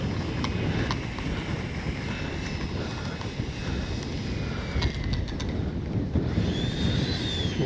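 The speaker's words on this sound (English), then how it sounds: "Yeah, it's windy." Strong wind buffets the microphone in a constant low roar, with a faint mechanical whine drifting above it throughout, outdoors at a flying session for an FMS Rafale 64mm RC jet.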